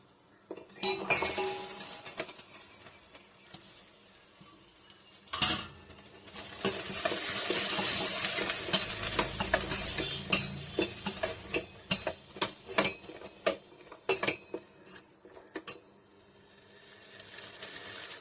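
Okra is sautéed in a pan with curry leaves, coriander leaves and chopped shallots, with a soft sizzle under repeated scraping and clinking of a metal spoon against the pan, sometimes louder bursts of stirring.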